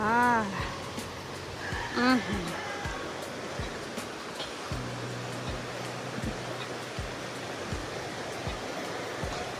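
Steady broadband rush of river water flowing continuously throughout, fairly loud and close, with a few voices and brief bird-like calls near the start sitting over the wash.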